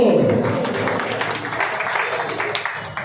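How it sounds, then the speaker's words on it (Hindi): An audience at an award ceremony and welcome event claps in a fading burst, with a voice speaking over the applause near the start before the clapping thins out. "जोरदार तालियां दोस्तों"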